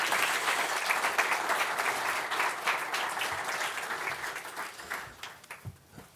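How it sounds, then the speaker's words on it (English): A conference audience at a finance panel event applauds steadily as guests walk onto the stage, a dense wash of many hands clapping that fades gradually toward the end. "please give my guests a very warm round of applause as they come up to the stage"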